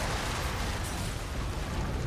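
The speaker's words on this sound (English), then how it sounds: "An explosion?" An explosion in the video game Trails through Daybreak 2 gives a loud, sustained, noisy roar of rumbling blast sound that fills the whole stretch without pause.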